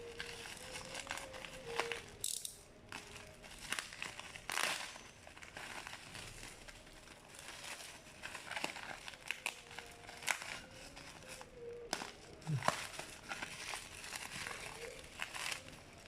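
Plastic packaging of facial tissue and detergent being opened, faint intermittent crinkling and rustling with a few sharper crackles, under occasional quiet talk.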